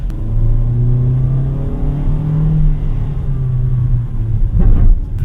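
A 2025 Toyota Ativ 1.3 E with CVT accelerates from inside the cabin, its engine humming in a steady rising drone before a brief louder thump near the end.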